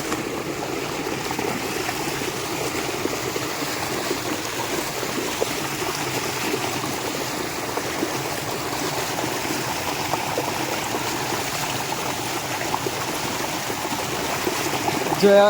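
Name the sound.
flowing stream water while washing hands and feet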